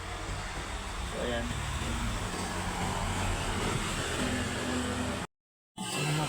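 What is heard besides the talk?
hot air blower on LED TV panel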